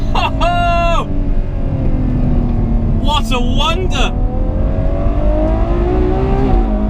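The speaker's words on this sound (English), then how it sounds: "Now listen to that shift." A Ferrari 812 Superfast V12 revs hard at Fiorano, its tone climbing through quick gear shifts with clear drops in pitch. A loud, continuous engine drone sits under a man's excited speech.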